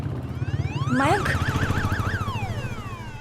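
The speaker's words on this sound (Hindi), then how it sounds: "अलार्म? हेडक्वार्टर का अलार्म?" A headquarters alarm in an animated SuperCops cartoon blares as a rising electronic siren that warbles rapidly up and down, then slides back down, loud and alone over a pulsing electronic beat.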